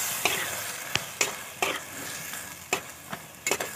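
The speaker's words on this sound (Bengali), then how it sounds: "কাজু বাদাম বাটাটা মিশিয়ে দিলাম" Cashew paste being stirred into curry frying in a pan, with a steady sizzle broken by a few sharp scrapes of the spoon against the pan, close and fairly quiet.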